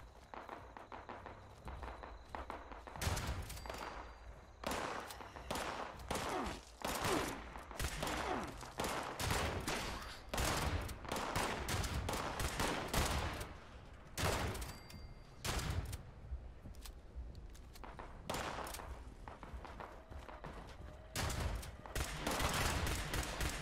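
Gunfire in Fallout 76 pops in repeated sharp bursts across the whole stretch, fairly quiet overall, mixed with footsteps and movement and no clear talking.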